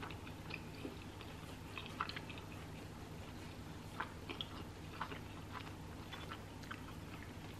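Someone chewing a breakfast bagel and a hash brown that is frozen in the middle, soft wet bites and mastication close to the mic, steady and quiet with no talk.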